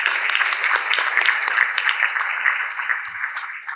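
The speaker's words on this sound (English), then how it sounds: "So thank you. A round of applause." Attendees at a 2019 San Diego angel investor conference applaud, a steady, moderately loud patter of many hands clapping that fades slightly at the end.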